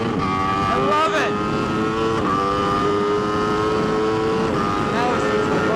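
An Aprilia RSV4 RF superbike accelerates hard out of a corner on a racetrack, its engine note rising through the revs, loud and close with steady wind roar and a brief gear-change dip.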